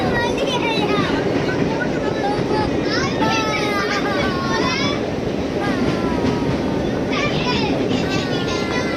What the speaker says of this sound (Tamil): நீங்கள் அந்த ட்ரெயின் வந்து அந்த பாலத்தில் போகும்போது அங்கே அடிக்கிற காற்று,